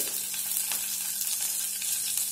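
Two green chillies hit hot oil in a pan, giving a short, steady crackling sizzle with faint pops, close and even, no talking.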